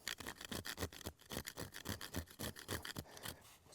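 Knife blade scraping a fatwood lighter knot in steady, rhythmic strokes, about four per second, close and fairly quiet.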